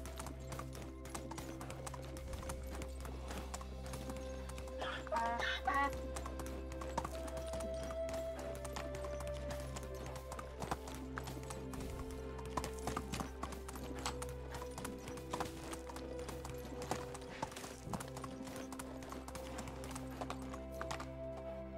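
Donkey hooves clip-clopping steadily across the ground in the medieval survival game Medieval Dynasty, a continuous walking rhythm under background game music and ambience, with a brief whinny-like call midway.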